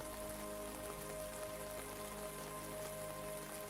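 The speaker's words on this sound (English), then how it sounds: "The rain taps gently on the glass." Steady, soft rain taps on window glass as an even, continuous patter, faint and unbroken, with a quiet sustained tone beneath it.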